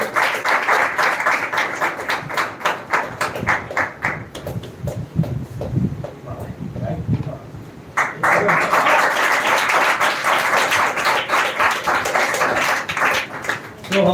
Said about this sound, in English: please give a huge round of applause for our mentor